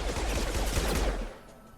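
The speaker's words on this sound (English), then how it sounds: "not being able to hear properly after an explosion" A muffled, rumbling wash of battle noise, dull and compressed like ringing ears after an explosion in Mass Effect 2, with faint rapid gunfire buried in it before fading out near the end.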